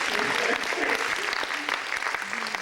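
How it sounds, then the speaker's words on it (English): Workshop audience at a community learning session giving a short round of applause, a steady wash of clapping with light talk underneath. "maybe we should do a quick clap for her"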